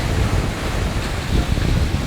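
Sea waves wash continuously onto a beach, a steady dense rush blended with heavy wind buffeting the microphone, with no voices.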